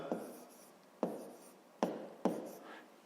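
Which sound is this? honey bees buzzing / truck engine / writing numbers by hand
writing numbers by hand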